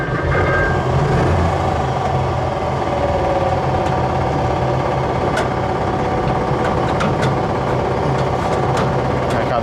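The engine of a Panzer IV tank runs just after starting, a loud, steady, close-up rumble and drone that never lets up, with occasional faint metallic clanks on top.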